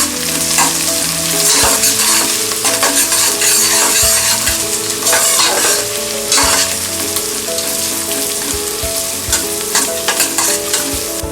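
Chopped onion and garlic sizzle loudly in a hot pan for a jowar pulao, with a spoon stirring and scraping against the metal again and again. No one speaks.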